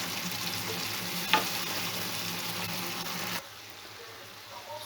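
Tomato sauce for beyti kebab simmers and is stirred in a pan, with a steady bubbling sizzle and a sharp clink partway through, then dropping to a faint, quieter simmer for the last second or so.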